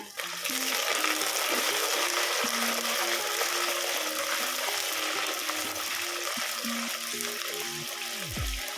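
Green chilies and curry leaves fry with chana dal, urad dal and garlic in a pan, a steady close sizzle and crackle holding throughout with faint tonal hum beneath, no talking.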